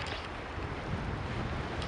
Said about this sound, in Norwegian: Det blåser veldig mye her ute ved Mjøsa akkurat nå.